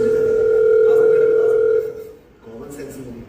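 A phone rings with a steady electronic tone held for nearly two seconds, then fades out, leaving a low murmur of background noise.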